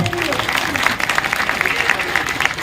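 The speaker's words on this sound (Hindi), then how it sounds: "जोरदार तालियां सुक्खू जी के लिए" Crowd applause for Chief Minister Sukhu at a Himachal Pradesh public gathering, steady clapping from a large audience lasting the whole moment, with a voice and crowd noise mixed in.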